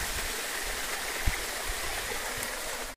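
Continuous heavy rush of a waterfall and stream between Huhdangru and Rurur villages in Shamator district, loud and near, with a single brief knock partway through.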